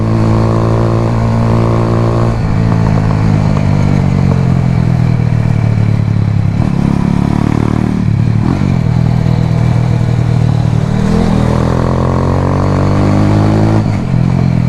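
A motorcycle ridden fast through curvy hills near Toms River, St. Andrew, engine loud and continuous, with repeated rising revs and quick clutchless upshifts marked by short dips in pitch.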